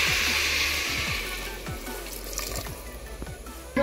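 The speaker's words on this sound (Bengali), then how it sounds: "এটা পানি দিয়ে দিই আর গরম পানি দিব" Water pours into a pan of frying rice, a steady splashing stream that hisses loudly at first and settles into softer bubbling and sizzling, with a few clinks near the end.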